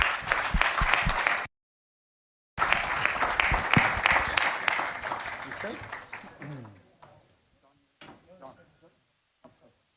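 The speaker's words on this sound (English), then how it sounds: "Please join me in giving him a big round of applause." An audience at the USISPF India Leadership Summit 2024 applauds with dense, loud clapping that cuts out briefly, resumes, then thins to scattered claps and fades.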